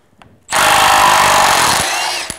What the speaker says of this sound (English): that's just my cordless impact wrench here